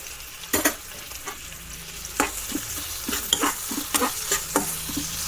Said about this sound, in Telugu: బాగా మిక్స్ చేసుకోవాలి. ఆనియన్స్ ఫ్రై అవ్వాలన్నమాట.